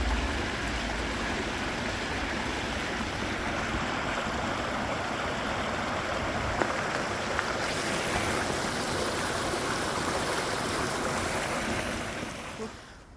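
Floodwater pours steadily into a street drain during the Skewen and Neath Abbey floods, a loud continuous rushing that stays even throughout and tails off at the very end.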